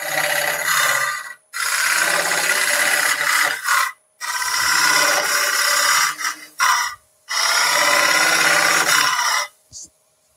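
Woodcut Pro-Forme hollowing tool cutting wood on a lathe, enlarging a hollowed opening: three long bursts of loud raspy scraping with brief pauses between passes, close and with no voices.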